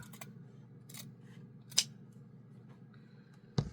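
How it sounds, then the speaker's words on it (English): Scissors snipping through a cotton shirt sleeve to cut out a fabric heart: a few sharp, isolated cuts spaced about a second apart, close and fairly quiet over a low steady room hum. "Just pick up your scissors. Everybody can cut a heart."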